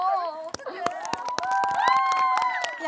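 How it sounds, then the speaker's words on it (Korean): Audience applause and excited cheering greet a stage performance on a K-pop competition show; dense clapping runs throughout, mixed with high shouting and screaming voices from the crowd. "박수 주세요"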